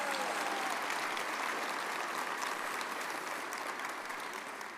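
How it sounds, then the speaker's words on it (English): Conference audience at an all-hazards opening ceremony giving a round of applause, a dense, continuous clatter of many hands that holds steady throughout. "Let's give them a round of applause one more time"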